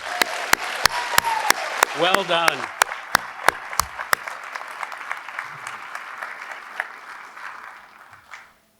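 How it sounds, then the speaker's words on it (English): Bright, evenly paced claps ring out at the Washington Youth Academy commencement, with loud whoops and cheers rising in the middle before the clapping thins and fades; a voice briefly speaks over the applause. "A round of applause for our educators, motivators, and our problem solvers."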